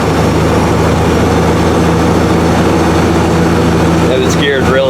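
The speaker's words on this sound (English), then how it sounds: "It's got a freshly rebuilt 235 straight six in it." An old Chevy pickup with a three-on-the-tree column shift and a freshly rebuilt 235 straight-six, its rockers not yet adjusted, runs with a loud, steady, close engine drone, and a voice briefly cuts in near the end.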